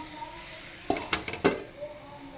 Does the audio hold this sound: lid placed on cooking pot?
yes